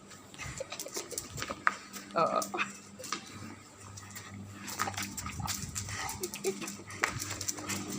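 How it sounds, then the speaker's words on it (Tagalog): A dog whimpers, sniffs and makes short yipping noises amid scuffling and handling sounds, with people talking nearby. "Tingnan mo naman ito aso."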